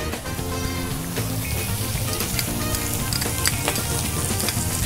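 King prawns and garlic sizzle and fry loudly on a barbecue, a steady close crackling hiss with no pauses.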